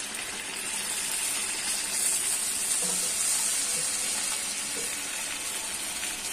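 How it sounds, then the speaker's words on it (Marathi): Chicken lollipops deep fry in hot oil on a low gas flame, giving a steady, close hiss and crackle of bubbling oil with no voices. "चला मी आता लॉलीपॉप फ्राय करायला घेते"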